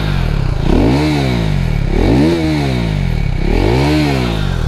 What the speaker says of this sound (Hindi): ये भाई की गाड़ी जिसमें उन्होंने एग्जॉस्ट लगवाया हुआ है, एक बार इसका एग्जॉस्ट सुना दिए भाई